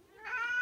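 A cat tied up indoors meows once, close and clear, a short rising cry pleading to be let loose.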